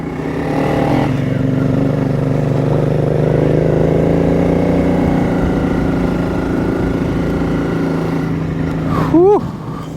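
Suzuki V-Strom motorcycle engine gurgling, a throaty low rumble held steady for several seconds nearby, ending in a brief rising rev near the end.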